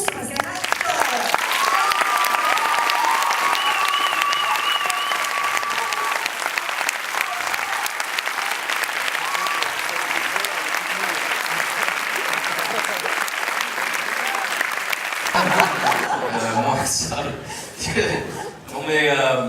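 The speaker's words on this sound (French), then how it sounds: "j'ai envie que vous l'applaudissiez tous" A live audience applauds an actor with sustained, dense clapping mixed with chuckles, running loud for about fifteen seconds before tapering off as a voice begins talking near the end.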